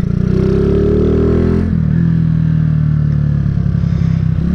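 Honda CG 150 Titan 2008 motorcycle being ridden, its single-cylinder engine rising in pitch as it revs up, dropping at a gear change and then settling into a steady throbbing drone, close and loud.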